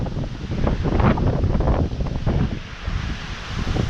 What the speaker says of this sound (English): this definitely could be 80 mile per hour wind